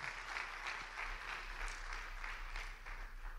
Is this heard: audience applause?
yes